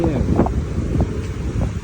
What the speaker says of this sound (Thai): ลมข้างแรงนิดหนึ่ง